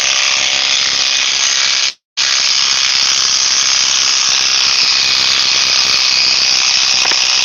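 A Milwaukee power drill runs loud and steady at high speed, cutting out briefly for a moment before spinning up again and holding a continuous whine.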